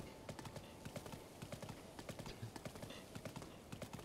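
Video-game horse galloping, with rapid rhythmic clip-clop hoofbeats repeating steadily throughout, quiet and even, with no voices.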